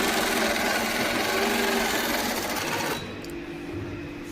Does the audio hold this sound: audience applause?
no